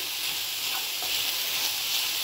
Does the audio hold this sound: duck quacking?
no